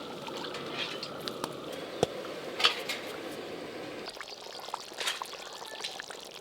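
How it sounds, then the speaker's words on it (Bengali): Cooked food such as jeera rice being poured out of a pot, a soft, quiet spill with light scraping and clinks of metal cookware scattered throughout. "এবার ঢেলে নেব।"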